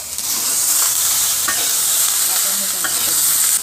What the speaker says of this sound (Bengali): পেঁয়াজ কুচি মরিচ কুচি দেওয়ার পরে বেগুনটাকে ভালো করে নাড়াচাড়া করব